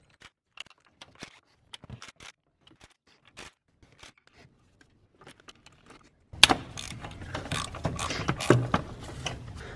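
11 mm intake manifold nuts being removed on a BMW E39/E46: sparse close metallic ticks and clicks of a ratchet and socket, then a louder stretch of busy rattling and clanking.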